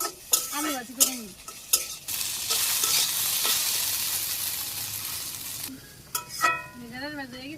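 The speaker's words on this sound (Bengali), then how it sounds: "ঢেঁড়সটা নামিয়ে আলু ভাজি করে নিই।" Potatoes frying as aloo bhaji in a pan, with a loud sustained sizzle in the middle and stirring clatter at the start and end, plus a few brief voice-like sounds, close up.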